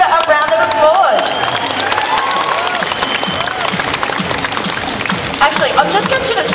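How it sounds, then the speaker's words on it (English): A crowd at a comic convention's cosplay championship claps and cheers for a costumed contestant, with a broad wash of applause and scattered whoops running throughout, mixed with voices and hubbub. "Everybody give a round of applause."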